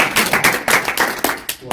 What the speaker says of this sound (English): round of applause, come on